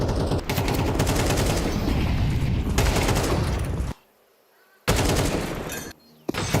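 Rapid bursts of gunfire in a Counter-Strike esports match, loud and close, come in dense volleys that stop abruptly for about a second before shorter shots resume.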